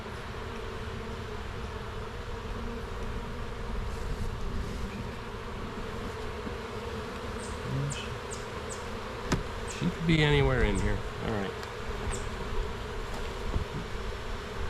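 Honeybees buzz steadily throughout an open hive during a split, a dense continuous drone with a few louder close passes near the middle, while people talk quietly over it.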